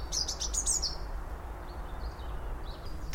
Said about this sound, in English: It's actually a second robin calling in the background